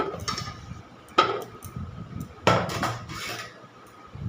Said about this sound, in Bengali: ছোটো ছোটো করে সব আমগুলো কেটে নিচ্ছি